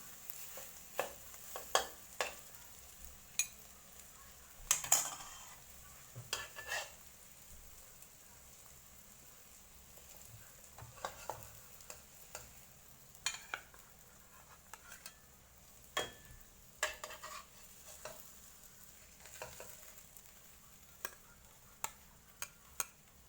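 Minced pork, tomato and egg frying in a pan for a Thai omelette with fresh chilies, with a spatula scraping and stirring in scattered taps over a soft continuous sizzle, fairly faint and with no talk.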